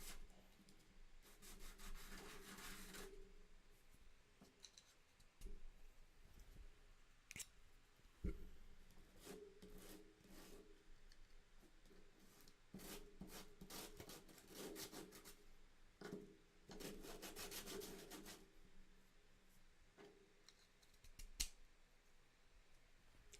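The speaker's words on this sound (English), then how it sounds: "get some more aggressive sandpaper out, just to make this a little bit faster, because I don't really want to spend all day sanding these down" Coarse sandpaper rubs back and forth over wood in bursts of hand strokes, a dry rasping scrape that starts and stops irregularly, close and fairly quiet, with no talking.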